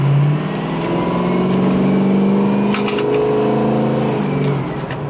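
A Ford Powerstroke turbo diesel dually pickup, an extended-cab 4x4, cruising down the road at about 40, heard from inside as a steady, loud engine drone with low harmonic hum and road noise.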